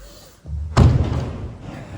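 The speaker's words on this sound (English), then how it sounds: "Let me just shut this door." A car door, on an S15 chassis under rust repair with a custom quarter panel being fitted, slams shut in a workshop: one loud, close, solid thud after a faint click, its echo fading over the next second.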